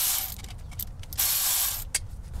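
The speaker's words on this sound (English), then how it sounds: "I'm just gonna use a short 10 millimeter socket and my Milwaukee cordless ratchet." Milwaukee cordless ratchet with a short 10 mm socket backing out bolts on a first-generation Toyota 4Runner solid front axle, giving two bursts of close, whirring mechanical buzz over a low steady rumble, with a brief sharp click near the end.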